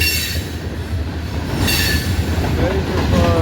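Freight train of plastic grain hopper cars rolling past close by, a loud continuous rumble with rattling wheels and brief squeals.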